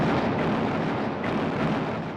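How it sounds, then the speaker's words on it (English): A shell explosion rocks the battleship Scharnhorst as a British cruiser's round strikes her forward radar, heard as a dense, sustained roaring blast with rumbling low end that swells again briefly midway, loud and without any voices. "his ship is rocked by an explosion as one of Norfolk's shells knocks out her forward radar"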